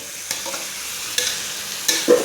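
Meat frying in its own released fat sizzles steadily up close, with occasional louder bursts as it is stirred or shifted in the pan; no voices are present.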